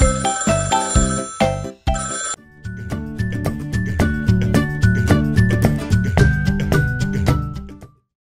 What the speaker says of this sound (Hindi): घंटी मधुर बजाता फोन